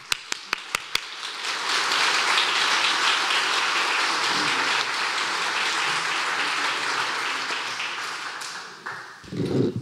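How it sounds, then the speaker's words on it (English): Sustained applause from an audience at a Chester County celebration marking 50 years of career and technical education, opening with a few sharp isolated claps before swelling into steady, dense clapping that tapers near the end. "Let's all give them a round of applause."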